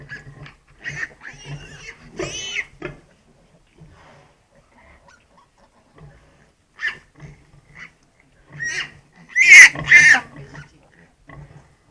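A sow and her newborn piglets squeal and grunt up close in intermittent bursts, with quiet gaps between and a loud, shrill squealing burst near the end.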